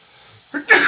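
A single sharp sneeze bursts out near the end after a quiet intake of breath, close and loud, in a casual indoor podcast setting.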